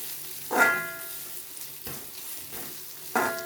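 Pumpkin, onion and grated coconut frying in a pan, with a low sizzle under three distinct spatula scrapes and stirs, spaced about a second or more apart, close and fairly loud.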